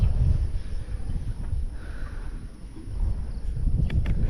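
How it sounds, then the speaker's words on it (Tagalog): Strong wind buffets the microphone on the summit of Mt. Naupa in Naga City, Cebu, as a storm rolls in, a steady low roar that swells and eases over several seconds with no voices. "So lakas na ng hangin."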